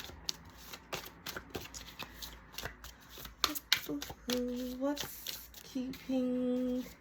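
Oracle cards are shuffled by hand for a tarot reading, quick riffling and flicking bursts close up, broken by short pauses, with a voice speaking briefly near the end.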